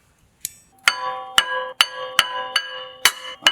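A hammer strikes a brake rotor on a 2016 Ford Transit-150 during a rear brake job, about eight sharp metallic clanks with ringing tones, spaced roughly half a second apart, close and clear with no talk.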